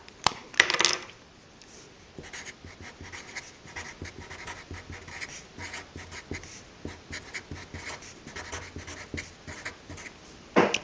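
A pen scratches across paper while a biomass pyramid for a food chain lesson is drawn, close up, with irregular strokes and short pauses, alone and fairly faint, plus a couple of sharper taps at the start and end.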